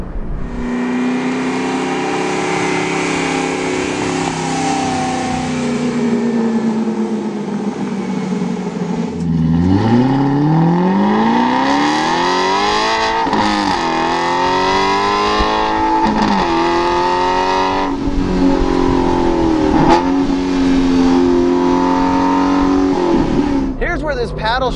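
An Aston Martin V8 Vantage S Roadster, driven hard on a road test, revs loudly through rising engine sweeps with quick shifts. The pitch climbs repeatedly under a continuous roar that stays close and strong throughout.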